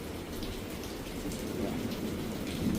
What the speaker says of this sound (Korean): 어이구 천둥 번개가 칩니다